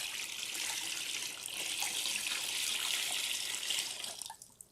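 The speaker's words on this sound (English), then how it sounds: "And now we have water." Water pours steadily into a bucket by a pond, a continuous splashing rush that runs for several seconds before tapering off with a few final drips.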